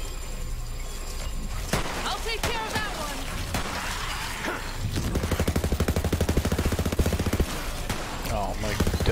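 Automatic gunfire from the Borderlands 3 video game, with scattered single shots giving way to a long, loud, rapid burst in the second half, while a voice talks over the action.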